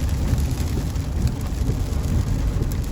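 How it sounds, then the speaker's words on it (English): Heavy rain from Tropical Storm Elsa pours steadily near Bonita Beach Road, a dense, loud, unbroken hiss with low wind rumble and no one speaking. "definitely the rain is picking up."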